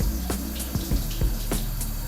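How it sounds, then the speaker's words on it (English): Kitchen faucet running hard over canned chickpeas being rinsed in a sink, a steady broadband rush of water with intermittent splashes and clatter as the beans are handled, close and continuous. "Turn on the water, very intense water."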